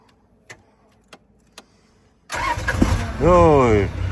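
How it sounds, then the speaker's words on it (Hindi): A Toyota HJ61 engine cranks and catches after a few faint clicks, then settles into a loud running rumble while voices talk over it. "देखे शाहरुख की गाड़ी टक करके स्टार्ट होती है।"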